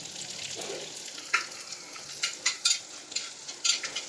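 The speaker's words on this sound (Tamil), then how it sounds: "பொடியாக கட் பண்ணி வச்சுருக்கிற வெங்காயம் சேர்த்து வதக்கிடுங்க." Chopped onions with slit green chillies sautéing in a pan for fish curry, a low steady sizzle with occasional louder stirring scrapes and clinks, fairly close and with no voices.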